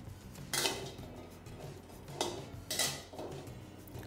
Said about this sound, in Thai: เครื่องนะครับเราจะนำขาลงไปคั่วนะครับตะไคร้นะครับหอมแดง